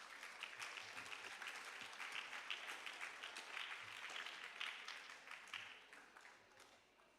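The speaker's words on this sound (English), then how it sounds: "Let's give her a round of applause as she comes." An audience at a junior school graduation ceremony claps steadily, a continuous patter of applause heard from some distance that fades slightly toward the end.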